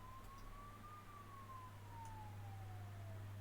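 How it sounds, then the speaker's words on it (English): A single siren wails steadily outside, faint and distant, its pitch sliding slowly as an ambulance passes, under a constant low hum with no talking. "I'm gonna miss these ambulances, guys."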